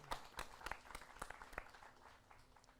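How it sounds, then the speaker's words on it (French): A live stage-show audience applauding after a game result, scattered faint claps with a few sharper hits, fading over a few seconds. "Un peu d'applaudissements s'il vous plaît"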